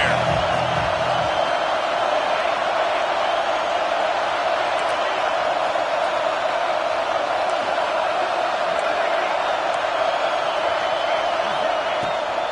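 A loud stadium crowd in the Madden football video game roars as a steady, dense wall of cheering noise that holds constant throughout, with no single voice standing out.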